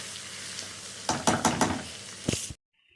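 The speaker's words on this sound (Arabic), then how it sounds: "اللحمه المتعصجه ما بتاخدش وقت على النار" Meat sizzles and fries in a pan over the flame, a steady crackle broken by several louder stirring scrapes and bursts before the sound cuts off abruptly.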